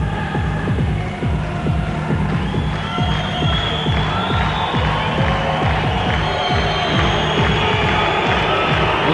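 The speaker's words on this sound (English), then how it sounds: "You can hear the crowd just going absolutely crazy here" A packed kickboxing crowd awaiting the entrance of an undisputed world heavyweight champion roars loudly and continuously, with dense rhythmic clapping or stamping pulsing through the cheering.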